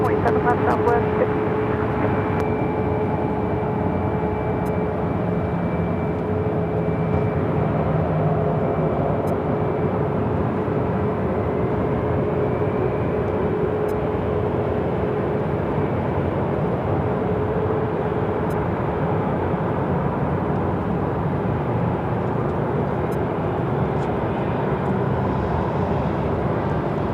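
A jet airliner takes off from runway 7 left at Phoenix Sky Harbor airport, heard as a loud, steady engine roar that holds throughout, with faint radio chatter in the background.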